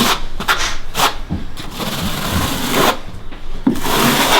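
Steel notched trowel scraping and combing mortar across a WEDI shower tray, repeated gritty strokes in a steady back-and-forth rhythm, close and fairly loud with no talking.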